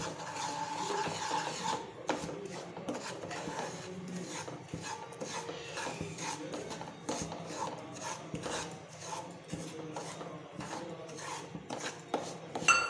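Fine semolina is stirred and roasted in hot ghee, a spoon or spatula scraping the pan in repeated rasping strokes, close and fairly quiet, with no talking.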